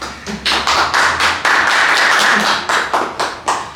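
Audience members at a Spanish-language poetry event clap for the poet in loose, uneven bursts, close and fairly loud, the individual claps distinct rather than blended into a roar.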